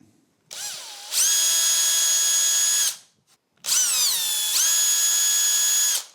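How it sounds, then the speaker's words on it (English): An electric drill with a small 2 mm bit boring a pilot hole in scaffold board whines in two bursts, spinning up sharply, running steadily for a couple of seconds, then stopping; close and loud with no talk. "I'm just using a small 2 mil drill bit."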